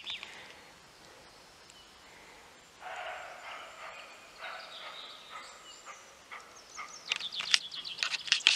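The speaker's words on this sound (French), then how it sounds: "Je vois qu'on entend les aboiements de grands cerfs" Large deer bark in short, hoarse, repeated calls over a quiet background, faint at first, then a louder, sharper burst of calls near the end.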